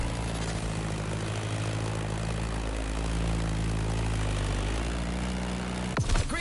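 A Staggerwing propeller biplane in The Crew Motorfest drones steadily with a low, even engine hum, holding close and loud throughout before a brief sharp disturbance near the end.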